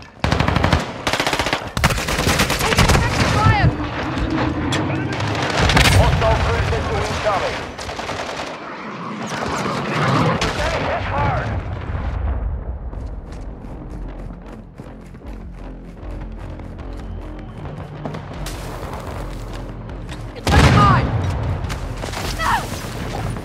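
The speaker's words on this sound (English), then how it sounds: "Throwing a stun grenade." Heavy automatic gunfire and blasts in the Modern Warfare 2 video game, with dense bursts of shots and booms filling most of the stretch, thinning midway, then a sharp loud burst near the end.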